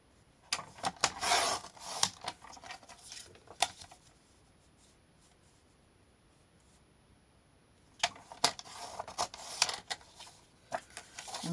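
Card paper being cut for a handmade Christmas card, heard as two close bursts of scraping, rasping blade strokes separated by a quiet pause.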